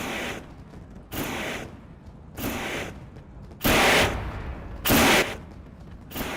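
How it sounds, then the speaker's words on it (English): Fireworks at a post-race podium celebration in the iRacing sim racing game, heard as five separate bursts spaced about a second apart, each a sharp crackling blast with a fizzing tail, the last two loudest, with no talking. "the good old-fashioned iRacing photo shoots as fireworks shoot off here"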